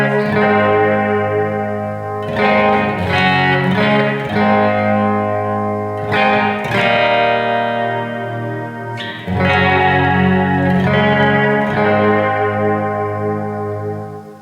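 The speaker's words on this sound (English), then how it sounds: "And then with the modulation, let's crank it." Guitar chords played through a Strymon BigSky reverb preset with modulation turned all the way up, several strummed chords swelling and shimmering with a wavering, washy tail that lingers between strikes.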